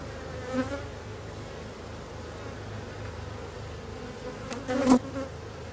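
Honeybees buzz steadily around an opened beehive after swarming, a low continuous drone with a couple of louder close passes as bees fly near.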